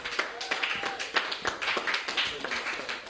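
Audience applause greeting a pastor at a church certificate and trophy ceremony, a moderate patter of scattered hand claps with uneven rhythm, fairly close and steady, with faint voices mixed in.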